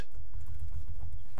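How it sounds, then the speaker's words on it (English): Rapid computer keyboard typing, a steady close patter of keystrokes running alone throughout with no voices. "You're not really good at that typing thing, are you?"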